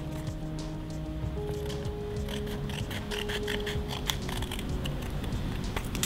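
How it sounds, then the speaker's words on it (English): Scissors snipping through a paper circle that has been divided into eight parts, producing faint, irregular crisp cuts and rustling paper close by under a steady background hum, with no talking. "Now let us cut these 8 parts with the help of scissor."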